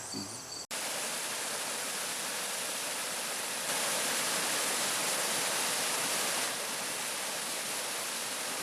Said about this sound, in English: There's a brook that runs through town here.